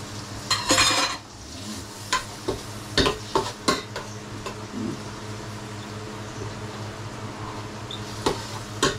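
Pork hits a hot pan of sautéed aromatics and sizzles steadily, with a burst of loud frying early on and repeated scraping, clattering stirs of a utensil against the pan throughout. No one speaks.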